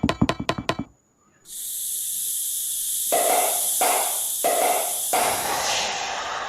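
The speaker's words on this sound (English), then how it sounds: "I'll have this tree sprayed" A sprayer hisses steadily while coating a Christmas tree white, a broad continuous spray that pulses in strength for several seconds after a few sharp knocks at the start.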